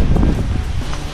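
Wind gusts blow as a typhoon dies down. It is a loud, rough rumble that buffets the microphone, with some faint rustling throughout.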